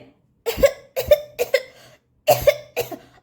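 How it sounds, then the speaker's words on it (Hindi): A cartoon doll character gives five short, sharp coughs in quick bursts, evenly spaced and close up, with silent gaps between them and no other voices or background sound. "अरे ये देखो खांसने लगी है तो, और छींकने भी लगी"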